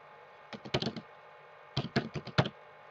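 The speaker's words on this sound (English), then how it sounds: "Click on the search bar and just type Space Desk" Fingers type on a laptop keyboard in two short bursts of close, crisp key clicks, a handful of taps each, separated by a brief pause, with no talking.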